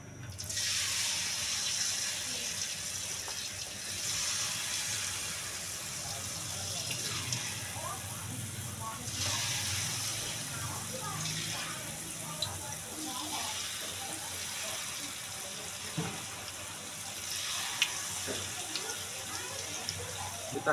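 Peanuts sizzle and crackle in hot oil, a continuous hissing fry with rising bubbling surges, steady and fairly close, while a voice talks over it now and then.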